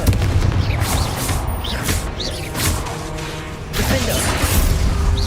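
A Confringo fire spell bursts in Hogwarts Legacy with booms and whooshes amid dense, continuous combat noise that swells and recedes across the moment.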